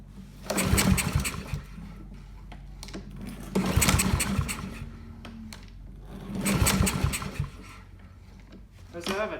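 A Honda-powered Husqvarna lawn mower cranks repeatedly without catching, three or four bursts of rapid pull-start chugging separated by pauses, near and fairly loud, with voices talking between attempts.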